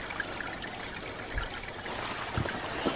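Steady, gentle rush of a mountain stream on New Zealand's Routeburn Track with a soft trickling texture, continuous and fairly close, with no voices.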